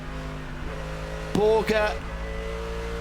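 GT race car at Circuit of the Americas during 24-hour endurance qualifying, a high-revving engine drone that climbs and swells briefly as the car passes, with a commentator talking over it.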